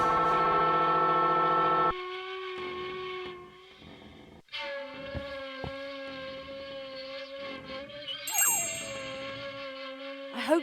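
In the adventure game The Night of the Rabbit, a bell held against a strange object gives a loud, sustained metallic ringing tone that shifts pitch and wavers over several seconds, with no speech over it.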